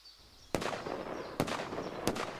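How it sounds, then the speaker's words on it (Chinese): Three sharp gunshots ring out in a wartime ambush setting, each one a loud, abrupt crack spaced about a second apart with a lingering echo between them and no voices. "放炮了。 这是枪声。"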